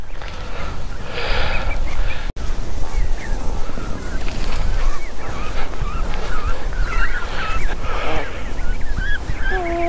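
Geese with goslings honk at Fairlop Waters lake, several nasal calls rising over steady wind and outdoor rumble, fairly loud and close, with a sharp dropout near the start.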